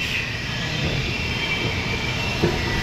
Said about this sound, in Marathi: ते बघा मेट्रो तिथे येते, तिथे थांबते.